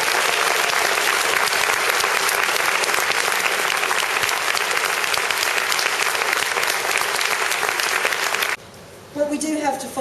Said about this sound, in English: give a big round of applause to the kids